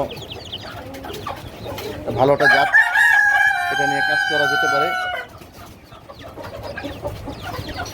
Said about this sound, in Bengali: এখানে মুরগি আছে মোরগ আছে